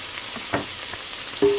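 Ginger and garlic paste fries in ghee with a close, lively sizzle. A few stirring scrapes come through and a sharper clack near the end, with no voices.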